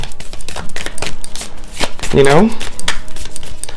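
An affirmation card deck is shuffled in rapid, close riffling bursts, with a brief voice heard partway through.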